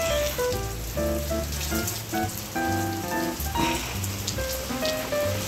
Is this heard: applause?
no